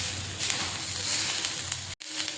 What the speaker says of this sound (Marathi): तुम्ही बघू शकता आपले कांदे छान असे भाजले गेलेले आहेत